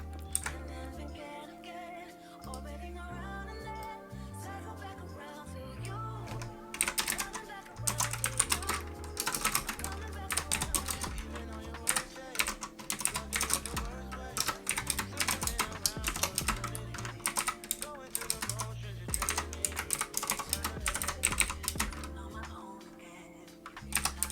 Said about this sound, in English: And then type in our location.